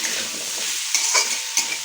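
Potato pieces sizzling in hot oil with turmeric in a pan, the steady fry punctuated by a few scraping stirs of a spoon, close and fairly loud.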